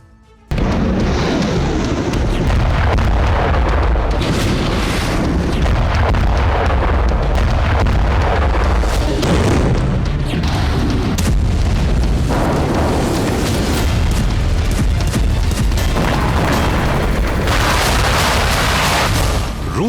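Explosions and artillery fire from Russian strikes in Ukraine boom in a heavy, continuous barrage, loud rumbling blasts rolling over one another with repeated sharper bursts after a brief quiet opening.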